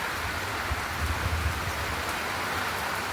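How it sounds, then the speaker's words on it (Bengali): Rain falls steadily in an even, soft hiss that holds for the whole stretch, with a faint low rumble underneath and no voices. "শুরু হয়ে গেছে বৃষ্টি।"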